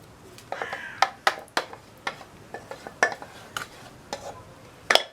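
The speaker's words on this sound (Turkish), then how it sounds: "süt koyuyorum ve kaynayana kadar ara vermeden karıştırıyorum sosumu" A spoon scrapes and clinks against a pot in irregular strokes while milk and chocolate sauce bubble quietly underneath; no talking.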